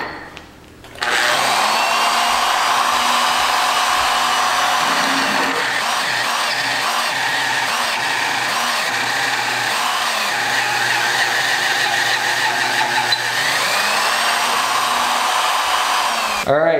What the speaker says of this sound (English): So next up, we are going to go to our 3/4 inch drill bit. Tighten that in and continue cutting with the CRC fluid.